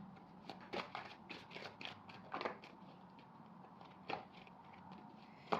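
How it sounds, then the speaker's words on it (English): A tarot card deck being shuffled by hand, giving quiet, irregular papery riffles and flicks spread through the stretch, close and faint with no talking. "Let me just shuffle again."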